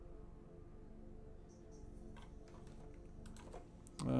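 A cat walks across a computer keyboard, producing scattered soft key clicks and taps, some in quick little clusters, over a steady low hum before a louder thump at the end.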